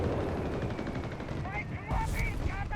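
Dense gunfire and explosions from the video game Company of Heroes 3, with American machine guns firing on German and Italian forces; loud continuous crackle with bursts, under a caster's voice.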